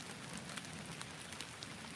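Rain falls steadily in an Alaskan forest, a soft, dense patter of drops on leaves and ground, faint and continuous with no talk.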